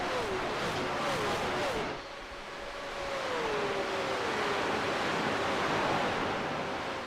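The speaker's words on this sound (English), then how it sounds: "Hear those engines roar as they fly into the bus stop." Engines of V8 Supercars in a racing video game roar as a dense, continuous rush, with a few pitch sweeps of shifting revs early on, steady and loud throughout.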